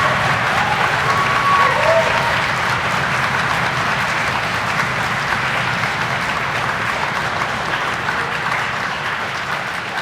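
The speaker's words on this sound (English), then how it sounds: "So one more round of applause for all of these people right here." Conference audience applauding and cheering at a Python conference welcome session, a dense, steady wash of clapping that fills the room for the full stretch, loud and close with a few voices mixed in.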